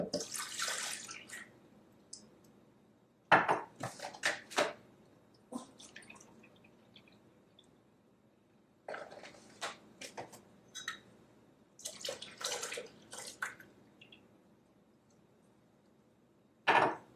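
Milk is poured into gluten-free crepe batter in a series of separate pours, each a short run of close liquid splashing and dribbling, with quiet gaps between them.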